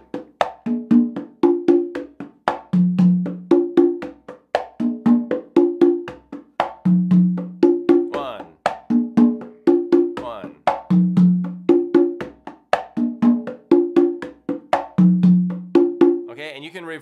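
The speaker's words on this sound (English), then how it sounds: "Why not play the higher drum, the conga, on the first bar and play the tumba on the second bar?" Two hand drums, a higher conga and a deeper tumba, trade off bar by bar in a steady repeating pattern of crisp slaps and resonant open tones, played alone and up close with no talking.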